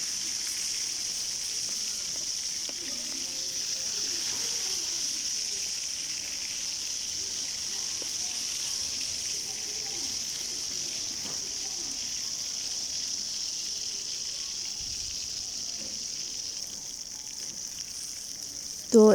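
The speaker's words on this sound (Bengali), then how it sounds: "এভাবে আমি উল্টে পাল্টে ভালো করে মাছগুলো ভেজে নিয়েছি" Catla fish pieces sizzle steadily in hot oil, a constant even crackle with a brief clatter at the very end.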